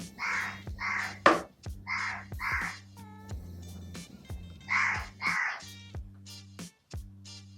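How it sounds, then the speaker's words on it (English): A crow caws repeatedly outdoors, harsh calls coming in pairs at a moderate distance over a low steady hum. "There is always a crow."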